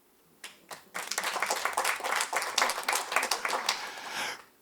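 Audience clapping at a live French stand-up comedy show, a burst of applause from a seated crowd that starts abruptly, holds steady and loud for several seconds, then cuts off.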